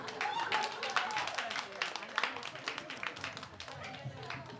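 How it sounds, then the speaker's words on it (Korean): A church congregation breaks into a burst of hand clapping, a dense, lively patter of many hands filling the room with sharp claps over several seconds. "박수."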